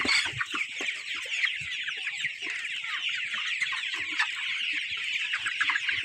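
Tiger breed chickens, a flock of about 500 forty-day-old birds on a farm, cluck and squawk continuously, with several overlapping calls close by and no talking.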